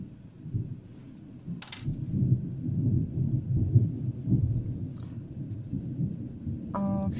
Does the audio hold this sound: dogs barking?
no